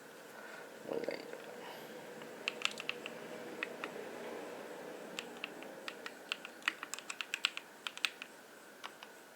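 Keys tap on a computer keyboard in short, quiet bursts of clicks, close by over a soft background hum, with no talk.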